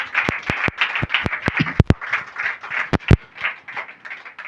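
A church congregation claps along during a Telugu sermon, sharp distinct claps in an uneven rhythm set against a steady voice in the background.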